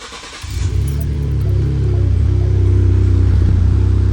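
A work truck's engine cranks and catches, then settles into a loud, steady idle close by with a low rumbling drone.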